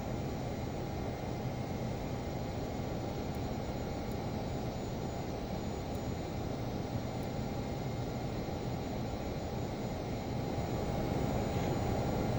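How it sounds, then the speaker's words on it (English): Learjet 35A jet taxiing in Microsoft Flight Simulator, a steady, even engine roar and hiss that holds constant with no pauses for about twelve seconds, fairly quiet overall. "so we're just going to taxi Alpha up to runway 19"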